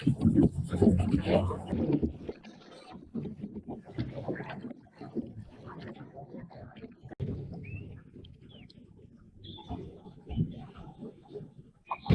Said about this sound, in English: I want to just get a little bit of rowing in here, see how it does